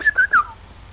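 Three short whistled notes in GTA V, bright and close, the last sliding downward, all within under a second.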